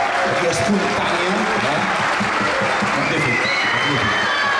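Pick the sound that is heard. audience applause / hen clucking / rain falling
audience applause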